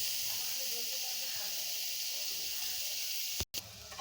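Chopped ginger and garlic fry in a very hot wok for a chicken stew, a steady, faint hissing sizzle that continues with no clear breaks apart from one brief cut near the end.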